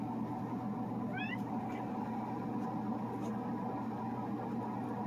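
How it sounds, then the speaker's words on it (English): A cat gives a short, faint, rising meow over a constant heavy low rumble, with no talking. "such a nice kitty"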